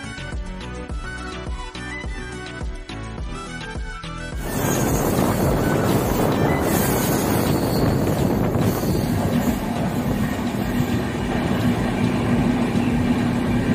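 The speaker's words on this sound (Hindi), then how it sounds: "जन शताब्दी एक्सप्रेस का इंजन पूरा गोल घूम रहा है" Jan Shatabdi Express passenger train running through the hills of Jharkhand, a steady loud rumble of wheels on rails with wind noise, growing louder and rougher after a quieter opening with music-like tones; no talking.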